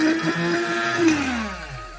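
A countertop kitchen machine grinding a steak seasoning rub runs in one steady whirring burst, close and loud, with a pitch that slides downward partway through as the blend breaks down.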